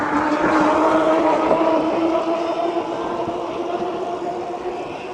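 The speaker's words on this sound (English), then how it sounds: "There goes an e-bike." An e-bike passes with a steady motor whir and a rushing, droning hum that fades slightly as it goes by, with wind noise over the microphone.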